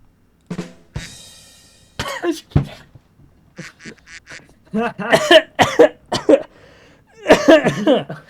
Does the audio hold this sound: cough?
yes